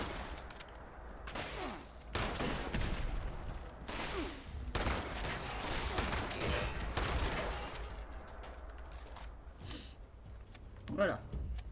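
Bursts of gunfire from Fallout 76 come at the player in dense volleys, a loud sustained stretch in the middle, with game sounds and a voice over them.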